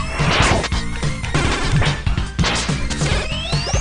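Layered Mega Man 7 sound effects, with a charged whooshing buildup of the Noise Crush weapon and repeated crunching blasts over an electronic backdrop, loud and busy.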